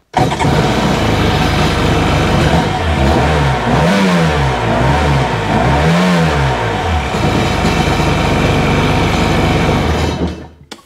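A Sea-Doo 951 DI jet ski engine, out of the water on a stand during rectifier repair, revs repeatedly in loud rising and falling surges over a steady close idle, with no talking.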